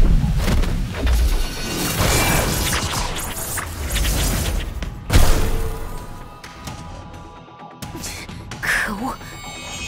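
An anime magic blast slams into the rock layer of a lakebed with heavy rumbling, whooshing effects and a sharp crashing impact near the middle, all mixed with voices.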